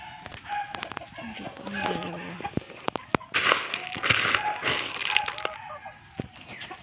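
Seven chickens cluck and squawk nearby in an irregular chorus while pecking, with sharp clicks and knocks scattered throughout.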